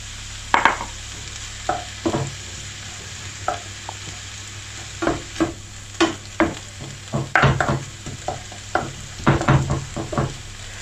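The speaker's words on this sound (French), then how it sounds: "je laisse cuire donc à feu moyen jusqu'à une cuisson totale" A ground meat mixture is stirred in a pan over medium heat, with a steady low sizzle under a series of close, irregular scraping strokes of the spoon, some clustered in quick bursts.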